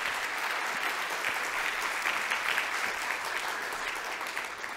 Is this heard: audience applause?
yes